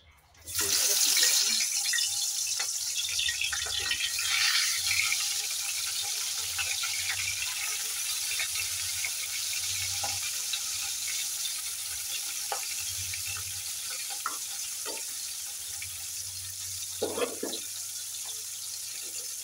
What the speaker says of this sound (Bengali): তেল গরম হয়ে গিয়েছে। এবার চিংড়ি মাছগুলো দিয়ে দেবো এক এক করে।